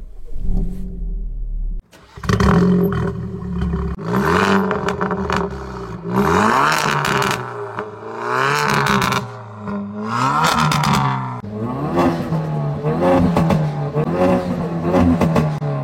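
A Hyundai i30 N engine cranks and catches, then revs up and down several times in close, loud surges before settling into a rising hum.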